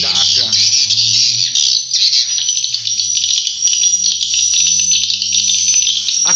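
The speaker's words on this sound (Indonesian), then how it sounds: "Ini ramai banget suaranya burung walet." Many swiftlets calling inside a dark swiftlet nesting house, a dense, loud chorus of shrill overlapping chirps and squeaks running continuously, with a low electronic hum underneath.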